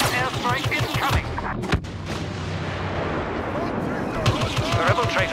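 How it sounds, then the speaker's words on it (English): Rebel airstrike in Star Wars Battlefront: a barrage of heavy blasts and rapid gunfire, with a deep booming impact in the middle, loud and dense throughout. "Rebel airstrike incoming."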